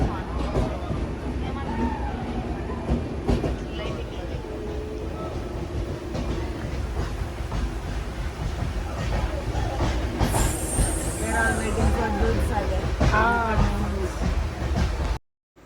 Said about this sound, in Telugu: మొత్తం ఒక గుహలో ట్రైన్ వెళ్తుంది